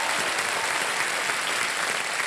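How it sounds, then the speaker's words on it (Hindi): Steady, dense applause from a large television game show studio audience, loud and continuous without pause. "एक बार तालियां बज जाएं इनके लिए"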